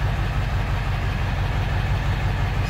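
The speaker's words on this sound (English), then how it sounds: "idling at right around 800-850 RPM" A cold 1999 Ford F550 with a 7.3L diesel engine idles steadily at about 800 RPM, a constant low rumble with a pulsing beat, close and alone.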